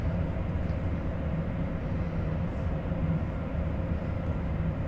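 A train rolls along in Train Sim World 3, coasting at high speed near 300 km/h with the throttle eased off, giving a steady, loud low rumble and drone of running gear that holds unbroken throughout.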